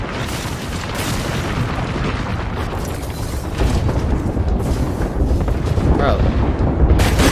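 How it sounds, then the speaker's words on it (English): Heavy rumbling booms from an airstrike in the Apex Legends video game, a dense continuous barrage of explosions that grows louder toward the end, with a voice speaking briefly over it. "Airstrike incoming."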